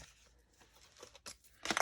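Small scissors cutting glassine paper at a craft table: a few soft, scattered snips and rustles, close and quiet, building to a sharper crinkling burst at the end, with no talk.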